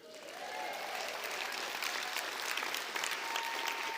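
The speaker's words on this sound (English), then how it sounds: "and the crowd goes wild" A crowd at a horsemanship event bursts into sustained applause, dense clapping building quickly and holding steady, loud and filling the space.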